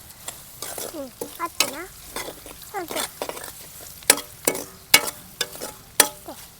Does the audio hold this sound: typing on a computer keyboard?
no